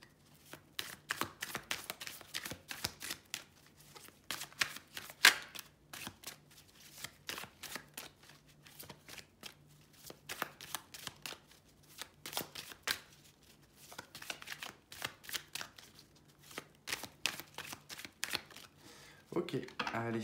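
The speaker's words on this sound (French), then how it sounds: "Alors comme d'habitude, on va faire le tirage en croix celtique" Tarot cards are shuffled repeatedly for a Celtic cross reading, giving rapid crisp riffles and slaps close by in uneven bursts, with a voice speaking intermittently alongside.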